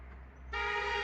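A car horn gives one steady, sustained honk that starts abruptly midway, over a low background rumble of traffic on a busy mountain road.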